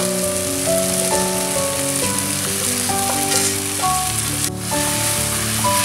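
Pre-fried prawns sizzle continuously as they go into a tomato-based prawn masala curry gravy in the pan, a steady frying hiss with music playing alongside.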